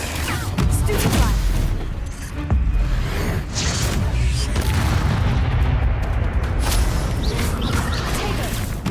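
The Stupefy spell is cast again and again in the game Hogwarts Legacy, a loud, dense barrage of magical blasts, booms and crashing impacts that runs without a break for almost nine seconds.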